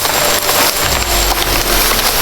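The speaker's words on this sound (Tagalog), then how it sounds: "May ulan tol." Rain falls outdoors near a creek as a dense, even hiss that fills the short stretch, with a low rumble underneath.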